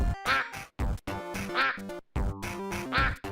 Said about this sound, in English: Did you know hedgehogs make a sound similar to quacking when stuck